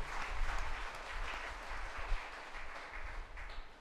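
Congregation at a church service applauding together to give thanks to the Lord, a broad steady wash of many hands clapping for several seconds with no voices over it.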